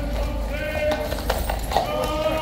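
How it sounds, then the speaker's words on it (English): Horse hooves clip-clop at an outdoor parade with a band of guards, irregular clopping mixed into a busy crowd and background noise, with people talking. "this magnificent fellow on an absolutely glorious horse"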